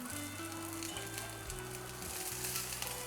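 Hot oil sizzles steadily in a pan while roasting ingredients for Nagpur-style tarri poha, a close, continuous hiss and crackle over a background of low tonal hum.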